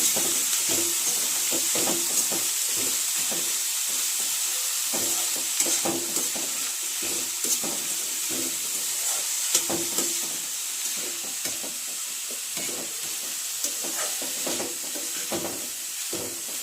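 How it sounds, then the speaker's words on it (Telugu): Capsicum is stirred into a sizzling tempering in a pan, with a steady frying hiss under repeated rhythmic scraping and clattering strokes of a spoon. "ఇలా బాగా కలుపుకోవాలండి క్యాప్సికమ్ తాలింపులో మిక్స్ అయ్యేలాగా"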